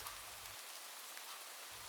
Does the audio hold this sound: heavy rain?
yes